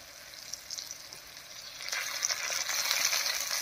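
Ground paste of ginger, garlic, dried red chilli, coriander and cumin hitting fried potatoes in hot oil, a bright hissing sizzle that swells louder partway through and keeps crackling steadily, close with no voices.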